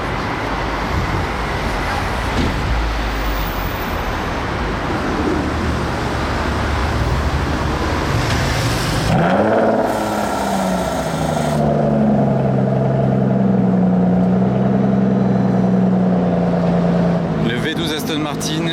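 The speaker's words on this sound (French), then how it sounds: "on va avoir le démarrage de la DBS. Ça va bien chanter." An Aston Martin DBS in Monaco fires up and revs, its engine note rising and settling into a loud, steady idle after the start, with traffic noise and voices around it beforehand.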